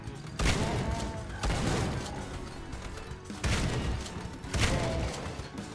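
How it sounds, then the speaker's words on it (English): Shotgun blasts and combat noise from the video game Supplice, several sharp, heavy booms recurring about every second or two, loud and punchy with rumbling tails. "Not with a single shotgun blast, surely."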